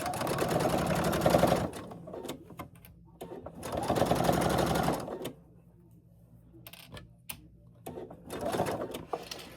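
Sewing machine running a back stitch on a cushion project, three steady whirring bursts of a couple of seconds each, separated by pauses with small clicks and handling noises.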